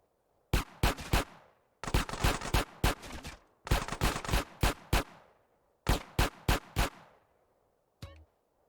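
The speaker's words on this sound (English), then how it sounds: "The shooting mechanics are really good." Bursts of gunfire from GTA The Definitive Edition: several rapid volleys of sharp shots in clusters, loud and close, separated by short pauses, then a brief faint clatter at the end.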